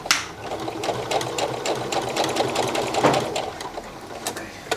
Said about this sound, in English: I'm going to sew this up